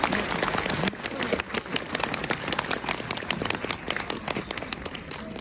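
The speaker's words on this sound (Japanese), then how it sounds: "今一度盛大な拍手をお願いいたします。" An audience applauds at Yasaka Shrine in Kyoto during the Setsubun festival, right after a dance offering. The clapping is dense and steady throughout with a crowd's murmur, and it thins slightly after the first second.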